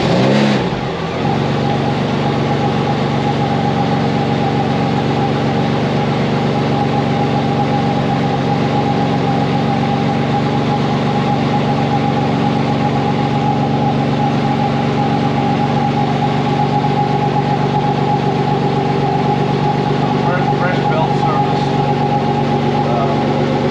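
A Ferrari engine runs steadily and loud throughout, a dense sustained drone with a slight rise after startup as the car is taken out for a short drive.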